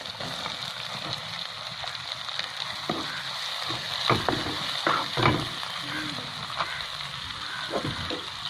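Chopped onion is added to hot oil with garlic already frying while cooking seer fish puttu. A steady, close sizzle and crackle runs throughout, with bursts of stirring and spattering louder toward the middle.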